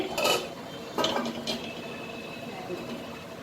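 A hot metal frying pan clatters and scrapes a few times against a stove or utensil, short clanks followed by quieter kitchen background.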